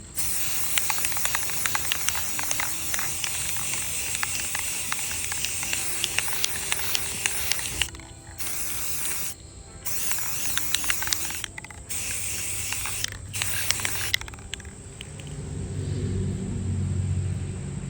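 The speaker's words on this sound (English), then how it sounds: "I'm about to spray paint it" A spray can hisses in long continuous bursts, pausing briefly several times before resuming, close and steady with a faint rumble underneath.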